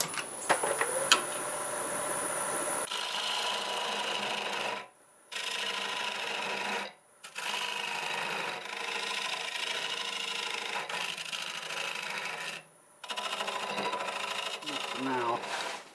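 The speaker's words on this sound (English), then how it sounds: "I'm going to use this little diamond point." A small diamond point tool from an old Craftsman set cutting spalted walnut on a wood lathe, giving a close, continuous scraping rasp in several long passes broken by short gaps, over a faint motor hum.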